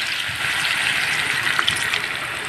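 Water poured into a cooking pot: a continuous, close gushing splash that holds steady for a couple of seconds.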